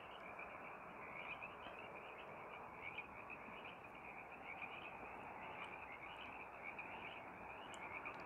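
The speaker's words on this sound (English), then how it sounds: "Sierran tree frogs are this really cute species, really small, 2 inches at most" A chorus of small Sierran tree frogs croaks continuously from a nearby marsh, many overlapping trilling calls at a steady pace, heard from a short distance in a quiet night setting.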